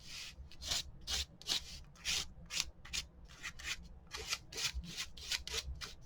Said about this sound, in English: I'm going to use a palette knife, and I don't want a ton of paint, so I'm just going to scrape it